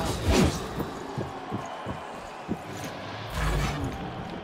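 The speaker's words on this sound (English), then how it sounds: "That's the sound of no music during combat." Game combat with no music: dull thuds and impacts at a steady pace over a low rumble, with a couple of louder whooshing hits.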